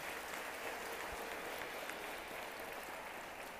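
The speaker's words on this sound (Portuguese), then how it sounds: "Pode aplaudir ao Senhor" A church congregation applauds during a worship service, a faint, even wash of clapping that continues without a break.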